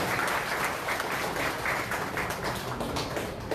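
Steady, dense applause from a large audience at a Korean party provincial chairman's inauguration, filling the room evenly and continuously without pause or talk.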